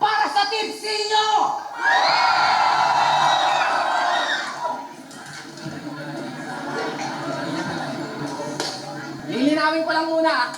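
A crowd at a FlipTop rap battle cheers and shouts loudly in a sustained roar, dipping in the middle and surging again at the end, with a voice talking over it.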